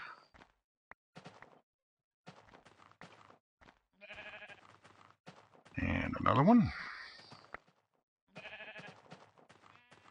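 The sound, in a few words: sheep bleating in Minecraft video game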